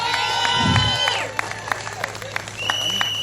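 A crowd at a Campbeltown outdoor rally claps and cheers as departing performers leave the stage, with whoops, shouting and scattered sharp claps. A voice speaks over the noise near the start.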